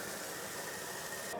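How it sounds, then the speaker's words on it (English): Tomahawk steaks sear on a blazing-hot gas grill preheated for half an hour, giving a steady, fairly loud broadband hiss that holds even throughout, with no talking. "so now we want to get them on and give them a nice sear."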